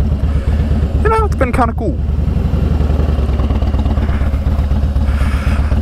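2017 motorcycle engine while riding, a loud, close, steady rumbling throb with rapid low pulses, running under someone talking throughout.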